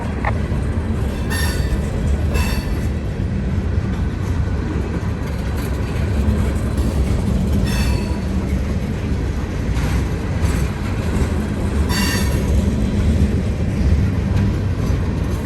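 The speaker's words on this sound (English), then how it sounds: "Here's the rotary dump hoppers. Check this out." Freight train of rotary dump hopper cars rolling past in a snowy setting, a loud continuous rumble of wheels on rail with periodic sharp clacks and brief squeals as the cars go by, with no talking.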